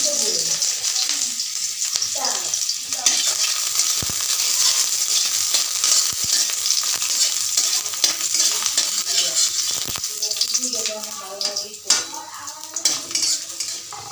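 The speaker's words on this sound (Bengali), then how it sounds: "তেলটা গরম হওয়ার পরে রান্না পেঁয়াজটা দিয়ে দিব" Onion frying in hot oil in a wok at night, a bright steady sizzle with scraping stirs and metal clinks of a utensil against the pan.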